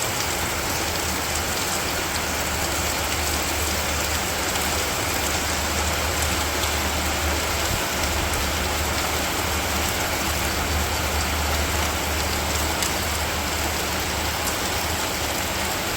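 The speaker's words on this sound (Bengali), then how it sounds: "এখন আবার বৃষ্টি নামতেছে" Rain falls in a Bangladeshi village as a continuous, even wash of hiss that stays uniform and unbroken from start to finish.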